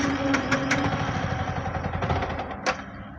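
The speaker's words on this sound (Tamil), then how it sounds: "6 mm வண்டி ரைஸ் ஆகலை, அப்படியே டக்குன்னு ஆஃப் ஆகுது பாருங்கள்" A Yamaha MT15 motorcycle with a weak ignition coil and low pickup, its engine running close up with a rough, uneven idle and brief blips before abruptly cutting off; no speech.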